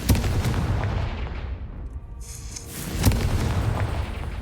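Confringo blasting-spell explosions in Hogwarts Legacy: loud, dense booming blasts that roll on continuously, ease off briefly around the middle, then surge again with a sharp new burst.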